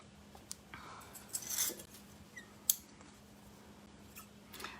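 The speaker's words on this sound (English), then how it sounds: "so that you can cut off this tip of your welting" Scissors make a few faint, close snips while trimming the end of upholstery welting on an Eastlake chair, with soft handling noises between cuts in a quiet room.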